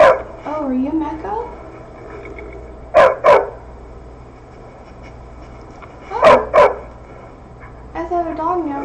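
A dog barks inside the video game Skyrim in two pairs of short, quick double barks spaced a few seconds apart, with a person talking before and after them.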